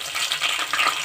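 Hot oil crackles and spits in a pan for cauliflower curry, a dense close sizzle with quick popping bursts over a short stretch.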